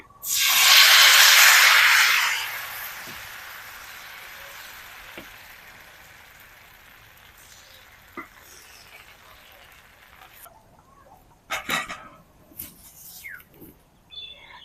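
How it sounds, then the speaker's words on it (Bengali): Chakli pitha batter hits a hot, lightly oiled pan with a loud, sharp sizzling hiss that swells for about two seconds, then fades to a soft, steady crackle with a few clinks near the end. "এবার আমি ব্যাটারটা দিয়ে দিচ্ছি"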